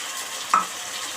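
Onion and chilli frying in hot oil give a steady soft sizzle, with a brief sharper hiss midway as spice paste is added and stirred in.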